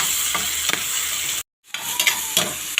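Chayote stir-fry with meat and tomatoes hisses loudly in a hot pan, a steady close sizzle with scraping stirs, broken by a brief drop to silence before the frying resumes.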